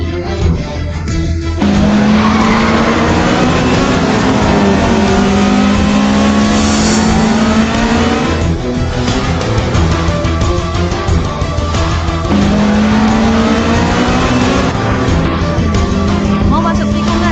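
A race car in an animated racing drama accelerates through a corner, its engine pitch climbing in two long sweeps while tires squeal, loud and close throughout.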